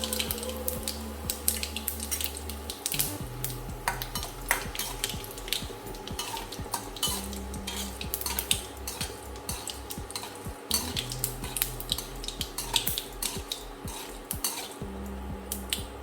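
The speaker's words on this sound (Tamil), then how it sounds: "கடுகு நல்லா பொரிஞ்சிருச்சு. காஞ்ச மிளகாய் ஆட் பண்ணிக்கலாம்." Mustard seeds and dried red chillies fry in hot oil in a kadai, giving a soft, continuous crackle and sizzle with occasional clinks of a spoon against the pan, fairly faint and free of speech.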